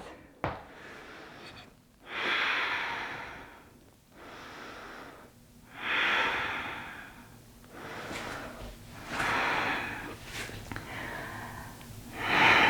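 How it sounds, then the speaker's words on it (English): Deep breaths during at-home vinyasa yoga practice, heard as slow, close inhales and exhales alternating in long, steady airy swells, about five full breath cycles. "Give yourself a few rounds of breath."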